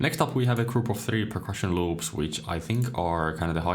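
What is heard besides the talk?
No distinct noise like a dog, phone or traffic.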